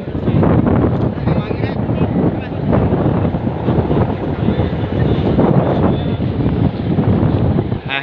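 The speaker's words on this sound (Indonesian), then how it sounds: "akibat dari angin yang turah-turah. Anginnya terlalu sos." Strong storm wind battering a microphone at Lampon beach, a continuous loud roaring rumble with gusting surges throughout, heavy buffeting dominating the whole stretch.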